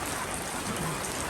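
Rain falls outdoors in a soft, even patter, a brief and faint steady hiss with no other sounds standing out.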